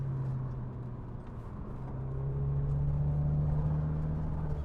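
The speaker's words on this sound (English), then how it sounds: "Drop it down a gear again, floor it. It just goes." A Subaru Legacy GT accelerating hard at full throttle after a downshift, a steady, rising engine drone with a strong low tone building in loudness over several seconds, heard from inside the car without talk.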